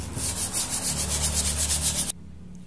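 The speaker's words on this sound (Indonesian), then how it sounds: "jadi aku mau amplas dari bagian sini" Sandpaper rubs rhythmically back and forth across a wooden furniture leg, removing varnish in quick, even strokes, up close, then stops abruptly.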